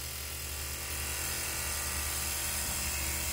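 A grinder runs with its abrasive wheel spinning, a steady close motor hum and whine that holds even throughout, with no voices.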